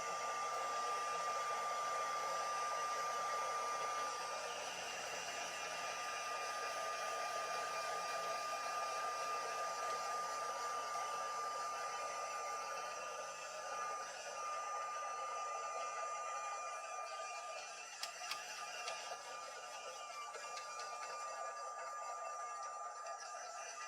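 A heat tool blows steadily and close for the whole stretch, warming paper that has been dip-dyed in a card-making technique. The whir is constant and loud, with a few faint clicks near the end and no speech.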